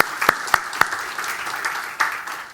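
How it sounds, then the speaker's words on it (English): A church congregation applauds during a sermon, a fairly close burst of sharp hand claps early on that settles into a steady, softer patter of clapping, with no talking over it. "Yeah, we can clap for that."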